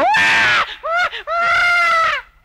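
A comedian imitates a small child crying loudly, producing a long shrill wail that breaks off, gives a short sob, then rises into another sustained howl, close and piercing.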